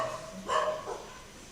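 A single distant dog barks once or twice, faint against a quiet background in what sounds like an indoor classroom setting, with no speech over it.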